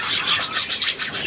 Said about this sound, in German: Das ist der Jennifer-Vogel, 350